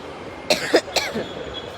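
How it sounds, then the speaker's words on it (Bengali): Two sharp, close coughs in quick succession, followed by a faint throaty after-sound against quiet background noise. "কাশি দিতে দিতে"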